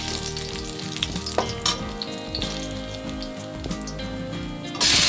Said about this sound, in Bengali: টমেটো আর আদাটিকে দিয়ে একটু নেড়ে চেড়ে কিছুক্ষণ রান্না করে নেব